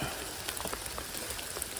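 Steady rain falls outdoors at a campsite where a fire is being built from natural materials, a dense even patter of drops with scattered sharper taps on surfaces, continuous and fairly close, with no voices.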